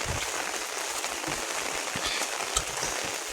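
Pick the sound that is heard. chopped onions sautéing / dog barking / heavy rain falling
heavy rain falling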